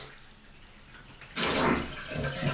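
Water suddenly gushes from a newly installed faucet into a bathroom vanity sink, a close steady splashing rush starting after a quiet moment and continuing to the end.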